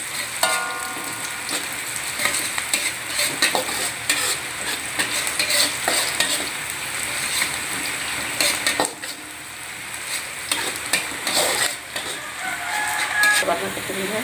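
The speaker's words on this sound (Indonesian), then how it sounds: "Kita tumis sampai harum" Shallots and garlic stir-fry in a pan with a busy, continuous sizzle and frequent spatula scraping and clatter, while a rooster crows in the background and a voice speaks faintly at times.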